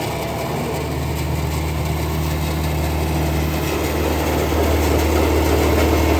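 A New Holland 850 tractor runs with a super seeder attached, its diesel engine giving a steady, loud low drone that holds constant without pause.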